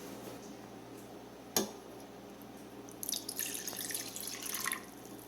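Faint kitchen sounds: a single clink, then a brief gush of water splashing into a pot for under two seconds.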